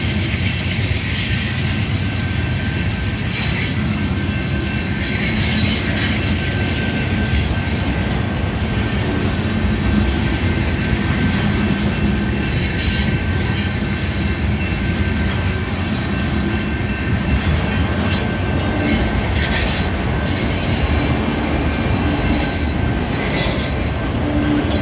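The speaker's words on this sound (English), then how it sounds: "obviously the train slows down significantly once it reaches Mesa" Union Pacific 8644 manifest freight train rolling past a Mesa street crossing, a continuous loud rumble of wheels and cars with squealing flanges and rhythmic clatter, close by and sustained throughout.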